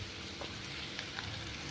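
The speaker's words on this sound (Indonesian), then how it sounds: "Yang berisi bumbunya itu bawang merah, bawang putih, jahe, digoreng semua." Spice paste of shallots, garlic and ginger fries in oil for beef broth, giving a steady close sizzle with small pops throughout and no talk.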